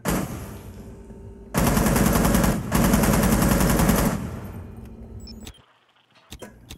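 Bursts of rapid automatic gunfire in the video game Rainbow Six Siege, two loud sustained volleys split by a brief gap, then a fading tail and a few sharp clicks alone.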